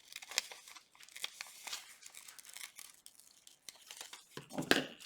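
Scissors cutting around a paper collage figure, a close, quiet run of crisp snips and crinkling paper rustles at an uneven pace, ending in a sharper crunch.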